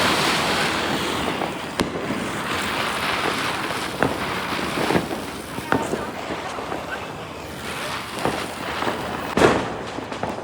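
Firecrackers set off during a family Diwali celebration outdoors, a broad rushing hiss with several sharp, scattered cracks and pops over about ten seconds.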